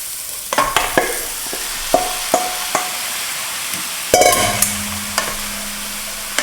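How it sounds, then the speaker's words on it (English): Bright green broccoli hits a hot pan for a beef and broccoli stir fry, a soft sizzle under sharp metallic clanks of a utensil against the pan, irregular and close, ending in a louder flurry of stirring. "In goes the broccoli, that beautiful bright green broccoli."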